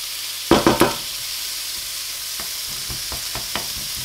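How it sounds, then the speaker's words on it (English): Bacon strips dropped into a hot pan give a burst of loud sizzling crackle, then settle into a steady low frying hiss with scattered faint pops and ticks; no voices. "I'll stick the bacon in and start that cooking"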